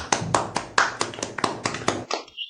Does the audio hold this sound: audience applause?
yes